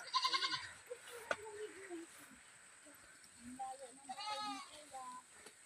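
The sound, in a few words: goat bleating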